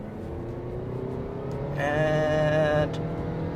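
A Toyota Prius Prime in sport mode pulls away hard from a full stop, its drive note rising and climbing in pitch over a few seconds before easing off, with one brief spoken word near the start.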